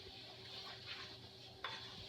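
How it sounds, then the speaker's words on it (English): Breadcrumbs fry in very hot oil for an enchilada sauce, giving a steady soft sizzling hiss with faint stirring, and a brief louder burst near the end; no one speaks. "So now our oil is really hot, and we are going to add the breadcrumbs,"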